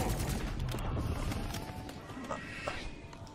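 Gunfire in the video game Black Ops 6 Zombies on the Liberty Falls map, a dense, muffled stream of rapid shots at moderate loudness that thins out toward the end, with a couple of sharper clicks.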